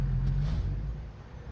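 Truck engine in American Truck Simulator throttling up, a loud steady low rumble with a rising drone that eases off after about half a second, continuing as a lower engine hum.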